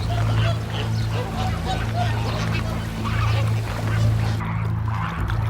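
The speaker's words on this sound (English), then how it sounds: "Time to infiltrate a fleet of flamingos." A large flock of flamingos honking and gabbling together, a steady, close, continuous chorus of nasal calls over a low rumbling background hum.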